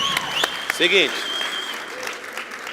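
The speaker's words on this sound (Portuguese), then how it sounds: "Uma salva de palmas para ele." An audience at a live interview breaks into a short burst of clapping, loud and close, while a voice speaks briefly over it.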